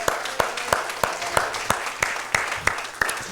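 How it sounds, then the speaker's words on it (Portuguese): A church congregation applauding in steady unison, about ten evenly spaced, firm claps over a soft room background, with faint talk underneath. "Vamos aplaudir com força, Edson. Vamos aplaudir com energia"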